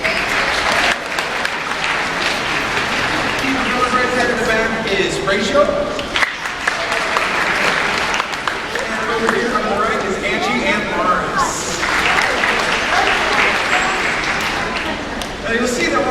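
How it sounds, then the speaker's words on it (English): Audience at an aquarium show with beluga whales claps and cheers steadily throughout, while a presenter's amplified voice introduces people over the applause. "Please give a big round of applause to Tim."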